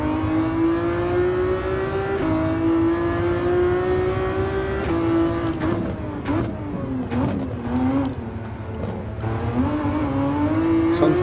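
Ferrari FXX K engine revving in Gran Turismo 7 at Sardegna race track, a loud sustained high-pitched wail that rises and dips through gear changes, continuous for the whole stretch with no talk.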